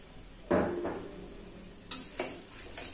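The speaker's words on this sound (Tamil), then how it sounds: "ஒரு வாட்டி நல்லா mix பண்ணி விட்டுக்கோங்க" A spoon stirs masala and salt into a pot of veg biryani cooked without oil, producing a few short scraping, sizzling strokes near and quiet, with gaps between them.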